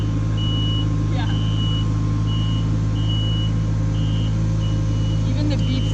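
An old construction machine gives a string of weak, evenly spaced reversing beeps over its loud, steady engine drone, all close by.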